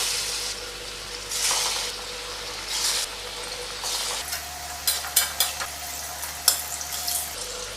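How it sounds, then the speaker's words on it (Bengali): Chana dal dhoka cakes frying in oil on a low flame give a gentle continuous sizzle, with a few sharper clinks and scrapes of a utensil in the pan near the end, close by and with no talking. "এবার ভেজে নেব এগুলো।"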